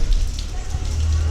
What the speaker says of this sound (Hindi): राइट नाउ बाहर बहुत तेज बारिश हो रही है